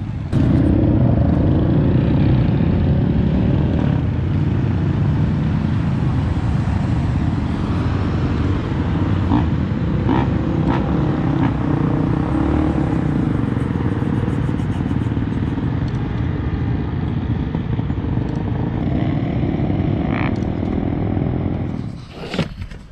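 A 2019 motorcycle engine runs roughly and unevenly at close range with a steady, loud rumble and no talk, then cuts off near the end.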